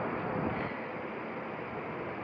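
Gusty wind blowing outdoors ahead of a storm, a steady broadband rush filling the whole stretch with no pauses and no voices.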